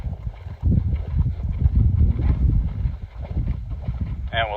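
Hoofbeats from a horse cantering in a riding lesson on lead changes, a steady rhythmic clip-clop close by, with wind buffeting and a rider talking briefly over it.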